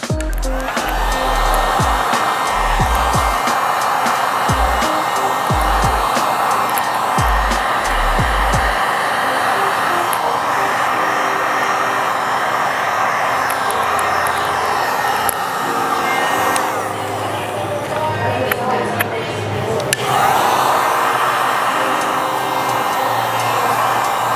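A heat gun shrinks window tint on the curved rear windshield of a Mitsubishi Eclipse hatchback, blowing a steady, close airy whir that runs unbroken throughout, with faint low knocks early on.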